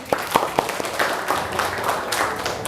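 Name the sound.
clapping for a student named Indah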